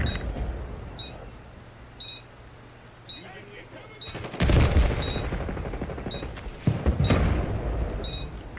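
Planted bomb in Call of Duty beeping at a steady one-per-second pace, with bursts of gunfire and explosive impacts cutting in during the second half.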